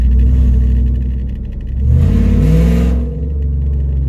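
Deep, steady rumble of a cammed 5.7 HEMI while cruising, heard from inside the cab, with a brief swell in revs midway before settling back to a low drone.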